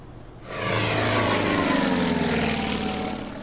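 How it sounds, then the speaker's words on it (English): The propeller engines of a bomber aircraft in the war strategy game Order of Battle: Winter War swell in quickly, then hold a loud, steady droning roar before easing slightly. "But another bomber is coming forward."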